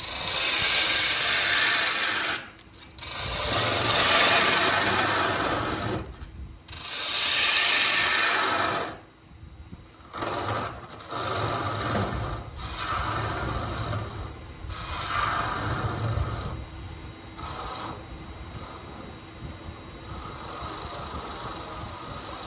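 150-grit sandpaper held against a spinning wooden goblet stem on a lathe produces a steady, close rasping scrape, broken by short pauses where the paper lifts off, with the lathe's hum underneath.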